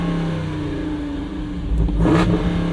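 A 2024 Jeep Wrangler 392 Final Edition's Hemi V8 holds a steady, deep rev near its 4,000 RPM soft limiter, then surges louder with a rising roar just past the midpoint, heard close.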